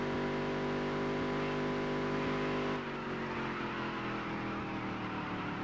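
Race car engine in the Dirt to Daytona racing game, held at a high steady rev near the shift light, then dropping slightly in pitch midway as it eases off into a corner; loud and continuous.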